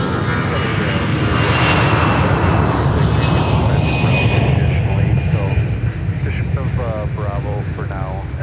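A Delta airliner departing MSP airport in Minneapolis makes a loud, continuous engine roar that rises and holds steady, with a rumbling low end. Talk runs over the noise throughout.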